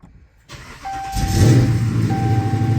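A 2010 5.7 Hemi V8 swapped into a 2011 Dodge Charger cranks and catches, then settles into a loud, close, steady idle with a faint whine over the rumble.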